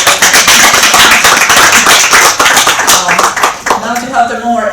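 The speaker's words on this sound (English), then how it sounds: "And now, short applause," A conference audience at a circular-economy event gives a brief burst of clapping, loud and close, fading after a few seconds as a voice begins to speak.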